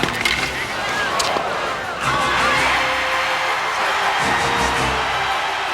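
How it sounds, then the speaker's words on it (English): A crowd cheering after set point at the 1992 US Open tennis tournament, a loud sustained roar with whistles and shouts filling the stadium, continuous throughout. "with the crowd in a frenzy"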